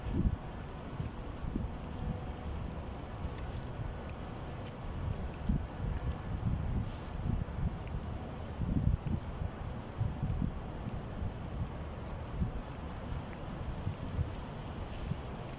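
Steady, blustery wind roars close to the microphone for the whole stretch, low rumbling gusts with rustling and occasional soft thumps, no voices.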